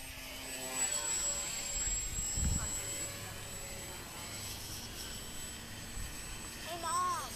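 An airplane in a video game lands, heard as a steady engine drone with a brief thump of touchdown, while voices talk over it.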